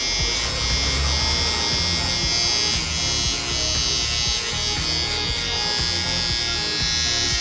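Moser Chromini Pro2 professional hair trimmer buzzing steadily and close up for the whole stretch while cutting the nape of the neck in a barbershop, with low voices murmuring faintly underneath.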